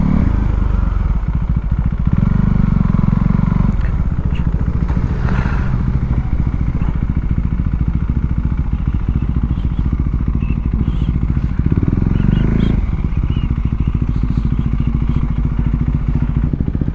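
A colleague's motorcycle, fully serviced, idling and revving loudly close by with a steady low engine drone that rises and falls, plus some clatter and thuds, with no talk.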